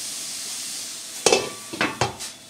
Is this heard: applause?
no